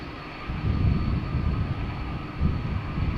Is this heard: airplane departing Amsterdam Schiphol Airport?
yes